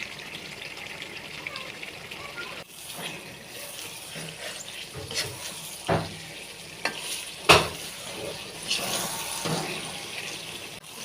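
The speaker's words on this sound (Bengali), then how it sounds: "এরপর আমি এটা ভালোভাবে লেড়ে চেড়ে নিচ্ছি" Roast curry being stirred in a frying pan, a soft continuous sizzle with scraping spoon strokes and a few sharper clinks, close and fairly quiet.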